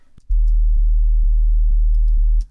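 A synthesized big room kick drum sounds as one long, loud, booming low sine-like tone that holds for about two seconds before cutting off, with faint clicks around it.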